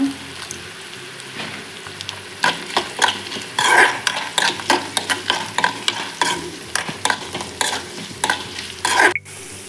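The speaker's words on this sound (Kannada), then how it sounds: "ಸ್ವಲ್ಪ ಜೀರಿಗೆ ಫ್ರೈ ಮಾಡಬೇಕು ಇದನ್ನು ಪೆಪ್ಪರ್ ಸ್ವಲ್ಪ" Cumin seeds and pepper fry in a pan for a village-style egg sambar, with a constant sizzle under repeated close scraping strokes of a stirring spoon.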